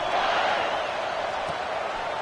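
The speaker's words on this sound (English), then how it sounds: "this crowd is buzzing after that last score." Football stadium crowd at a Texas vs Clemson game buzzing after a touchdown, a steady broad roar of many voices, constant and enveloping.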